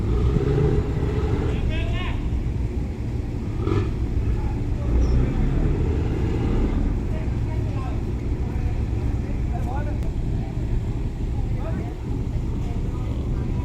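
A tugboat's engine pushing a fishing boat into the fishing pier on the Pattani River, a heavy continuous low drone with clanks and knocks over it, while people talk faintly in the background.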